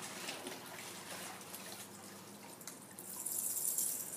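Tap water runs and splashes as an MSA SCBA firefighter breathing mask is rinsed under it, a faint steady wash with small spatters and a brighter hiss near the end, and no voices.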